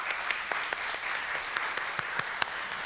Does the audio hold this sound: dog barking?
no